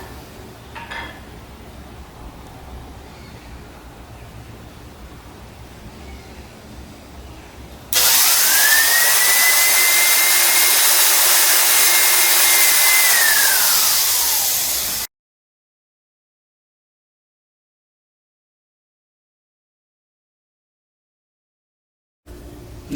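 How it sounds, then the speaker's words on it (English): A power drill bores holes in a high power rocket build, one loud whirring burst of several seconds with a rising then falling pitch, following quieter room noise and then silence. "So I'm going to go ahead and continue drilling holes"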